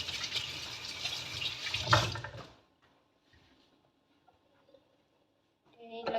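Hands are washed under a running kitchen tap during home cooking prep, a close steady splashing stream for about two seconds that cuts off abruptly, leaving near silence before faint kitchen noises return.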